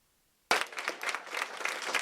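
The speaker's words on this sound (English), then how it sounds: "Applause rang as the Panama Buena Vista Union School District Board of Trustees approved the Willie J. Frank Charter School" Applause as a school district board of trustees approves a charter school, clapping bursting in suddenly after a moment of silence and carrying on as a dense, steady patter from a room full of people.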